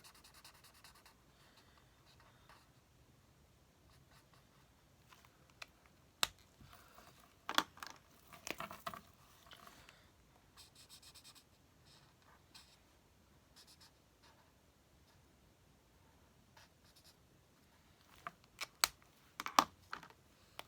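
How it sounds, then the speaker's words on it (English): Envelopes drawn on a handmade card are colored in with a marker or pencil, giving faint, scratchy strokes in short irregular bursts separated by quiet pauses, close to the microphone. "now I'm just going to color in the envelopes"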